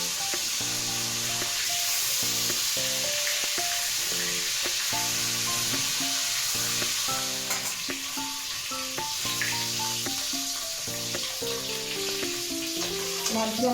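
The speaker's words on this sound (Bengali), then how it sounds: "মাছগুলো আমার ভাজা হয়ে গেছে" Koi fish fry in hot oil for a cauliflower fish curry, making a continuous crackling sizzle that runs beneath melodic background music throughout.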